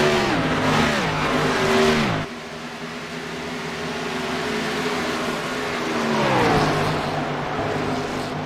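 Several V8 touring-style race cars revving hard at Texas, engine notes rising and falling in loud, sustained howls with audible gear changes, one pitch sweep dropping sharply before the roar builds again.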